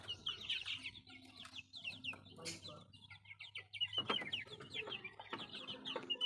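Chickens in a coop, including partridge Brahma, native, BCM and Americana breeds, clucking and chattering in soft overlapping bursts at close to middle distance, with faint talk underneath.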